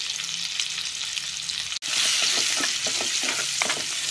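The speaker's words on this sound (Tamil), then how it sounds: "இந்த வெங்காயத்தை அந்த எண்ணெயில் நல்லா வதக்கி விட்டு எடுத்துக்கலாம்" Onions sauté in hot oil with a bright, close sizzle that briefly cuts out, then returns louder as stirring adds soft scraping strokes.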